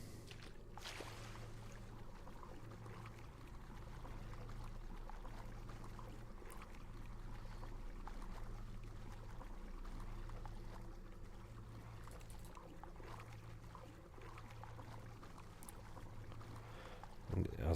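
A character swims underwater through a tomb in the video game DDO, with a steady low murky water ambience and faint bubbling that stays quiet and continuous throughout.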